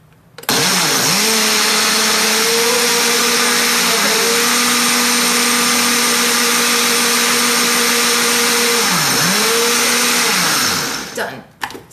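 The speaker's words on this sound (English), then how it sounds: "All right, so we're gonna turn our blender on." A Ninja blender blending kefir runs at full, steady roar for about eleven seconds, with pitch dips as the load shifts, then cuts off abruptly.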